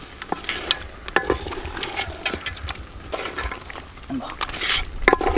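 Pepper rabbit roast being mixed in an oily pan, with soft sizzling and irregular clicks and scrapes of a spoon against the pan, moderately close and fairly quiet.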